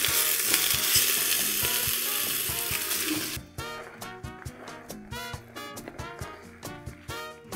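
Spinach added gradually to a pot with garlic for spinach soup, a loud steady sizzle that drops away midway, leaving softer intermittent stirring and clinking with a faint musical tone underneath.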